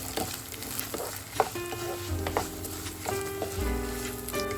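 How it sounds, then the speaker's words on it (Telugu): Coriander seeds frying in hot oil in a pan, a steady dense sizzle and crackle with occasional stirring scrapes, continuous and fairly close. "ధనియాలు కూడా మంచిగా ఆయిల్లో ఫ్రై అవ్వాలి"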